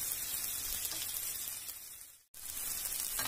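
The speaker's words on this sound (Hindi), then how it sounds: "दोनों साइड से इसको हम भूनेंगे पैन में।" Sweet potato slices fry in desi ghee in a pan for chaat, a soft, even close-up hiss that cuts out for a moment and then resumes.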